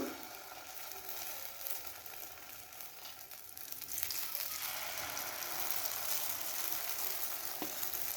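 Beaten egg mixture goes gradually into hot oil, a faint sizzle that swells into a denser, steady hiss partway through, with a single light clink near the end.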